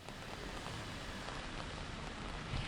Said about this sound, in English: this rain is only going to continue into tonight